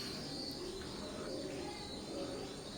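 Teddy pigeons coo softly from nearby, with low, repeated murmuring calls over a steady background hiss and occasional chirps from other birds.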